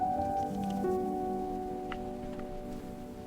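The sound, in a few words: rain falling during a picnic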